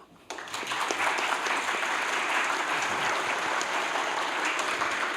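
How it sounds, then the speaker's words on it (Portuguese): Applause from a conference audience honouring teachers at a Linux event opening in Pelotas, dense steady clapping starting abruptly after a brief quiet moment and holding at full strength to the end. "primeira salva de palmas a esses professores fantásticos"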